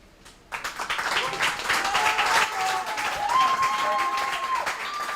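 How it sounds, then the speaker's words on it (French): A school competition crowd breaks into loud, sustained applause after a short silence, dense clapping rising and holding steady, with a whistle-like tone sliding through it. "On applaudit très fort pour Naruto"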